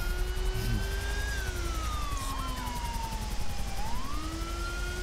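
A wailing police siren in GTA V rises and falls slowly over a dense background rumble, sustained and fairly prominent.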